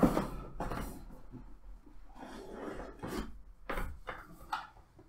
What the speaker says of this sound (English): To open the box, just look for the side with the flap.